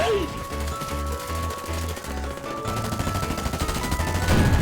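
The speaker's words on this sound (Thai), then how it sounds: "กูยิงไปมดแม็กแล้วมึงไม่ตายวะเฮ้ย" Gunfire in the FireFront mobile shooter game, a rapid rhythmic burst of automatic shots followed by denser firing, with players talking over it.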